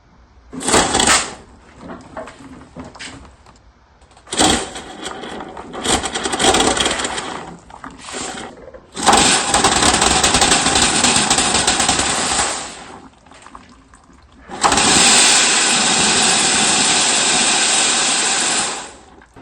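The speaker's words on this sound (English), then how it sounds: "gave it a little bit of a hit with the air compressor, and fuel started coming out of the tank" On a 1982 Volkswagen Rabbit 1.6 diesel, an air compressor nozzle blasts compressed air into the fuel tank return line. Loud, close bursts of hissing air come in several uneven hits, the last two held for several seconds.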